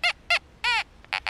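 A Fisher F22 metal detector sounds its VCO target tone, a nasal, duck-like quack. Five short bursts come in an uneven rhythm, and the middle one is longer and bends in pitch. The tones are clear and close, with no talking.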